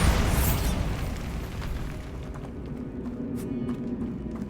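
A Bombarda spell blast goes off in the game Hogwarts Legacy, with a loud booming burst up front that decays into a rumbling, crackling tail.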